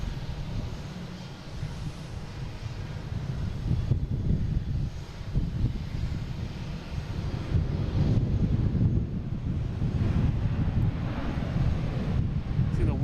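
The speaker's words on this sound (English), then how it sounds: "Wind on there, wow." Wind buffeting an outdoor microphone at Boston Logan International Airport, a loud continuous rumbling roar with a faint aircraft engine drone mixed in and a voice talking underneath.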